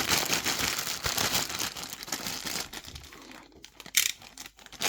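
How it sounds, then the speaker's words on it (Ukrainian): Crinkly plastic packaging being handled and crumpled up close, a steady dense rustle with sharper crackles near the end. "Будем пакетами шелестіти."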